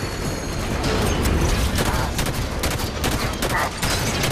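Battle rifle gunfire in the Halo 5 campaign against Promethean enemies, a loud, dense stream of rapid shots and impacts filling the whole stretch with no voice over it.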